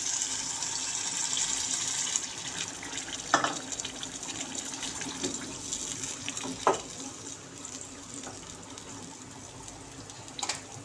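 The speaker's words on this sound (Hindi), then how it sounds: "अब मैं 1 बाउल पानी का डाल रही हूँ" Water poured from a bowl into a pot of chicken aloo gosht with potatoes and spices, a steady splashing pour running throughout with a few brief louder spatters, heard close with no talking.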